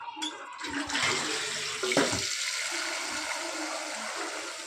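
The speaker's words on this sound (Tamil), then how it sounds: "இப்போ இதில் நம்ம வாட்டர் ஃபில்லை பண்ண போகிறோம்." Water gushes from a tap into a burnt milk pan in a steady, close rush that keeps running throughout the clip, with a brief splashier surge near the start.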